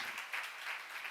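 A church congregation applauds during a sermon, a brief, soft wash of clapping heard from a distance without distinct individual claps.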